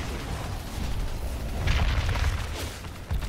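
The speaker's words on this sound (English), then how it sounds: "getting that initial damage from far away with those napalm grenades" Napalm grenade blasts in the video game Evolve during a tournament final, heard as continuous rumbling booms and bursts with a broad dense roar that swells midway and a sharper pop near the end.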